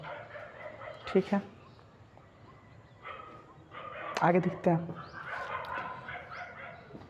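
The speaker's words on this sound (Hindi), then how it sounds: "तो कुत्ता क्या इतना भौंक रहा है।" A dog barks in short bursts of two or three sharp barks from a moderate distance, under and between a man's speech in a quiet indoor setting.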